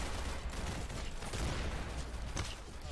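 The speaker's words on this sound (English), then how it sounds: "I'm being shot from somewhere." Dense, continuous gunfire in the Roblox game Arsenal, with a steady crackle of overlapping shots and a few louder bursts, distant and muffled under constant game noise.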